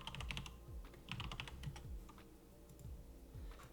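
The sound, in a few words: typing a password on a computer keyboard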